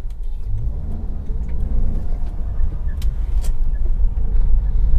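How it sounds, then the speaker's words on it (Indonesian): A Toyota Avanza pulls hard uphill on a test drive after front suspension repairs, its engine droning loud and steady as the car accelerates, with no talking over it. "Ini nanjak itu masih enak, kita langsung gas tarik gitu ya."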